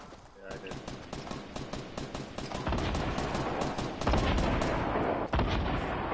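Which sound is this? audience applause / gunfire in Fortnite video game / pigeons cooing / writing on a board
gunfire in Fortnite video game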